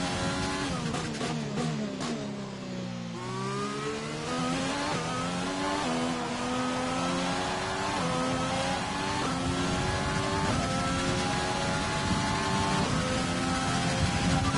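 A Formula 1 race car screams through the final lap in F1 2020, its high engine note climbing steadily through the gears with sharp downshift blips and braking dips early on, loud and close throughout with no talking.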